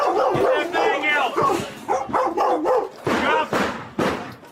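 Police dogs barking during a raid, repeated loud close barks and yelps in quick bursts that overlap shouting officers.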